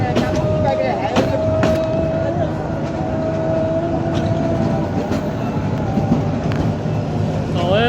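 Narayanganj commuter train pulling into Shyampur railway station on a 150-year-old line, a steady loud rumble of carriages with rail clatter and squeals, sharp clanks at intervals, and a voice speaking over the noise.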